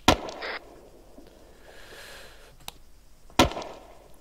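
Sharp gunshots from the military shooter game Arma 3 ring out in the middle distance. Two or three separated reports land over a few seconds, each a brief crack with little tail, against a quiet background.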